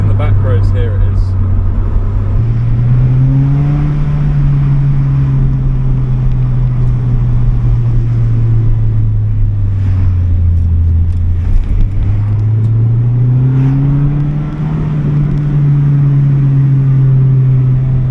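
A Nissan Silvia S15 engine drones steadily while driving on back roads, its pitch climbing and dropping with gear shifts, loud and close under someone talking.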